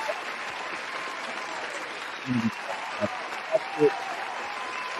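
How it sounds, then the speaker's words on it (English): Soft, distant applause fills the background at a comics talk show, a steady wash of clapping under a few brief spoken words and small knocks. "We give you your whole applause here."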